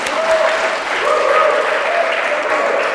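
A congregation applauds loudly and steadily for about three seconds, the clapping joined by a sustained musical tone underneath.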